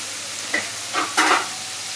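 Pieces of pumpkin drop into a hot pan and are stirred, bringing two short bursts of sizzle and scraping over a quiet, continuous frying hiss.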